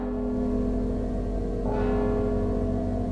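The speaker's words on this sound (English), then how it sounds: "Don't you hear the bell?" Bell tolling in the stealth video game Mark of the Ninja, a steady resonant ring over a droning background, with a brighter strike partway through, no voices.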